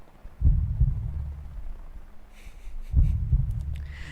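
Two deep, thudding heartbeat pulses in a horror video game, each a double-beat throb spaced a few seconds apart, loud and close over a quiet background, with faint chimes near the end.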